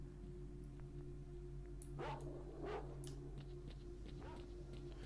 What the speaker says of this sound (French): Oh là là là là, trop de chiens